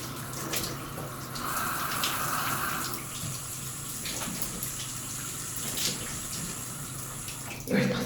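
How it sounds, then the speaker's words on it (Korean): A shower runs steadily for the whole stretch as a broad, even hiss of falling water, close and moderately loud, with a few faint knocks and splashes near the end. "저는 샤워를 하고 있습니다."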